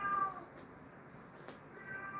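An old cat, high on catnip, gives a couple of quiet, drawn-out meows indoors, one at the start and another near the end, with soft room noise in between.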